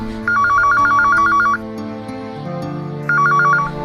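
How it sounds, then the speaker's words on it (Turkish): A telephone bell rings in two bursts of rapid trilling, loud and close, separated by a short pause with a low tone underneath. "Açın şu telefonu biriniz hadi"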